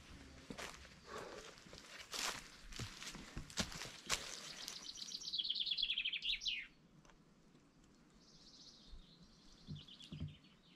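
Several birds chirp and call back and forth near a medieval village, with a twittering trill in the middle, over light footsteps and rustling nearby.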